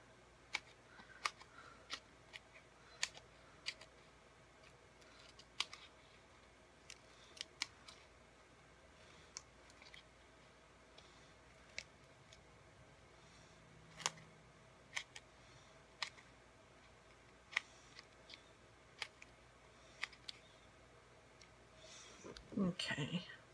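Card stock being cut by hand for card making, a series of sharp, quiet snips and clicks spaced irregularly over a faint background, with a louder rustle near the end.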